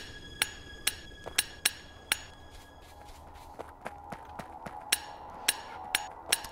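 Repair work on defensive walls in Factorio, a series of sharp metallic taps and clinks, irregular but frequent, crisp hammer-like strikes ringing briefly over a low background hum.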